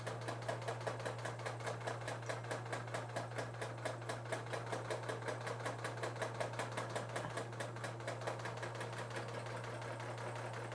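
A Bernina serger runs a fast, even mechanical patter while chaining off an overlock and chain stitch, steady rapid needle beats at close range with a low motor hum beneath.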